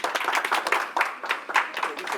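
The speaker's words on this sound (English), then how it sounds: "Clap it up for her." An event audience gives a short burst of dense clapping, fairly loud and close, with voices mixed in.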